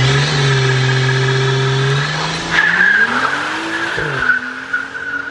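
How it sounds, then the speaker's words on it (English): A BMW, either a 435i or M3, revving hard through quick burnouts, with the engine note climbing and falling while the tires squeal loudly, close and alone. "I want to show you guys some quick drive-bys, some quick little burnouts"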